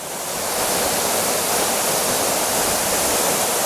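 Mountain waterfall pouring over rocks, a loud, dense, continuous roar of falling water that swells in over the first half second and then holds steady, close by, with no voices.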